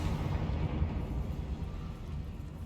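A Confringo fire spell blasts in Hogwarts Legacy, a dense low rumbling explosion that roars steadily for a few seconds at moderate level.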